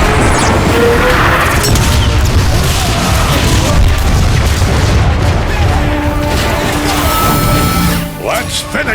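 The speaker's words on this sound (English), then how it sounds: "I'm curious as to what an artillery strike would do to that Marauder" Artillery strike explosions in the video game Transformers: Fall of Cybertron rumble in a dense, loud, continuous barrage of booms and crashes, with game dialogue underneath, then ease off near the end.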